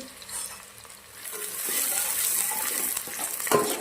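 Thinly sliced dry onion sautés in a pan for Manchow soup, its frying hiss swelling from faint to a steady, bright sizzle with occasional stirring scrapes, and no one talking.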